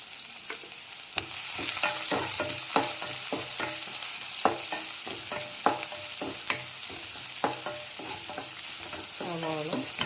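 Chopped onion sizzles steadily in a hot pan while making a beetroot thoran, with repeated sharp scrapes and taps of a spoon stirring throughout, close and clear with no voices.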